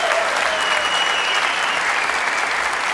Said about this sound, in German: Applaus für unseren lieben Peter